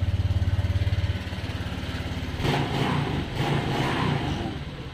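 Honda Vario 125 LED scooter engine running after being kick-started, a close, rapid pulsing putter at first, then a rougher, louder mechanical clatter as it keeps running.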